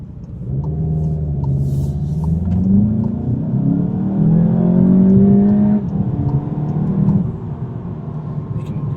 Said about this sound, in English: So when you kick it into sport mode in the transmission, the revs go a little higher.